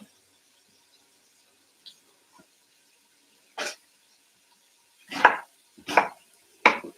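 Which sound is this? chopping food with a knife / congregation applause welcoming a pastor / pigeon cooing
chopping food with a knife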